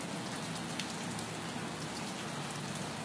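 Steady rain falls continuously, a dense even hiss of drops striking surfaces, moderate and unbroken throughout with no voices.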